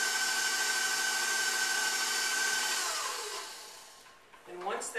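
An electric mixer whirs steadily and loudly while blending cake batter with a third of a cup of flour, then winds down and stops near the end, followed by brief clattering.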